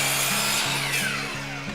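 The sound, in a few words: upcut chop saw trimming end of wooden board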